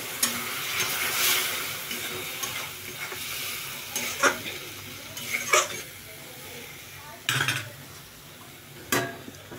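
Bowl-rinsing water goes into a hot frying pan of food, giving a continuous sizzle. A spoon scrapes and clanks against the pan in irregular bursts, some louder and close.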